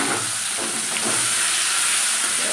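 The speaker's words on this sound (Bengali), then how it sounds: "এই তেলে পেঁয়াজ কুচি দিয়ে দেবো" Chopped onion sizzles in hot oil, a continuous close hiss and crackle that holds at an even loudness throughout, with faint stirring beneath it.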